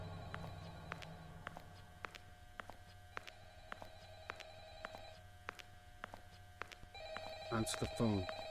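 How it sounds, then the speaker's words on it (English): A telephone rings in repeated regular bursts, fairly faint against a quiet room, with a louder clattering noise near the end. "Answer the phone."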